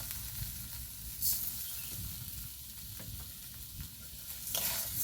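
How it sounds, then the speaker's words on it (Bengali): Sugar is stirred into carrots that have been fried in a pan for a Bengali carrot sandesh sweet. Soft sizzling runs under scraping stir strokes, close and fairly quiet, with no voices. "চিনিটাকে গাজরের সাথে খুব ভালো করে মিক্স করে নেব। এভাবে নাড়াচাড়া করে মিক্স করে নেব।"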